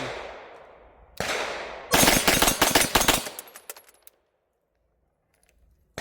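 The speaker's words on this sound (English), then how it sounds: "And it launches brass right back in your ammo can for you" Spent brass casings from an MPA DS9 LOC MK2 pistol at a range, after a shot, clatter into a metal ammo can as a dense burst of bright metallic clinks and jingles that fade to silence.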